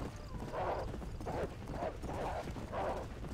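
A horse's hooves clip-clop at a steady trotting rhythm in the western game Red Dead Redemption, close and continuous over a constant background rumble, with no talk.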